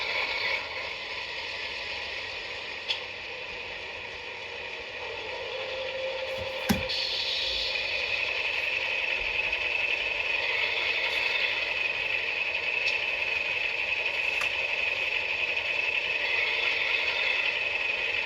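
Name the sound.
Atlas CSX model locomotive engine running sounds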